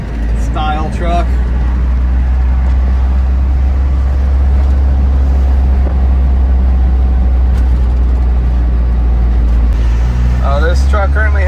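A steady low engine drone and road rumble fill the cab of a cab-over style Mazda truck as it drives, with people talking briefly at the start and again near the end.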